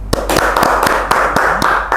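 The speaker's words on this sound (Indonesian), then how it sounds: "Tepuk tangan lu teman-teman buat Mr." A small group of people clapping in sharp, uneven hand claps, up close and steady for two seconds, at a talk show-style event.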